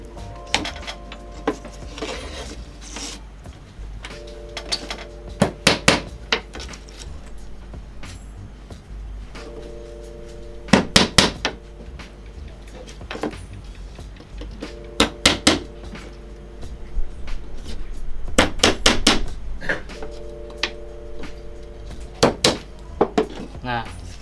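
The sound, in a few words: hammering nails into a hydroponic water filter frame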